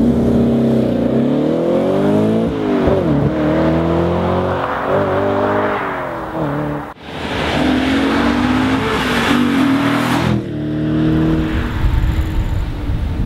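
Audi RS4 4.2 FSI V8 Quattro engine roaring close by, revving up and down in repeated surges of rising and falling pitch, with a brief break mid-way before more hard revs.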